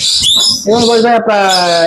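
A parakeet at a bird seller's stall gives a short, loud, close-up whistling screech lasting under two seconds.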